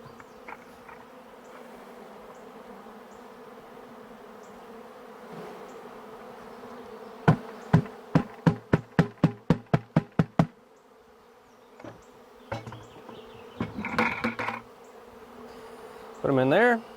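Swarm of bees caught into a bucket, a low steady buzz throughout, with a burst of sharp knocks partway through and louder scrapes and bumps near the end.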